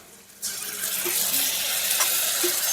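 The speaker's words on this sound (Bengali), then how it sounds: "রসুন বাটাটা দিয়ে একটু ভাজা ভাজা করে নেব।" Garlic paste sizzles steadily in a pan of lightly fried chopped onion while cooking a cabbage dish, a bright frying hiss that starts abruptly and holds with faint stirring scrapes.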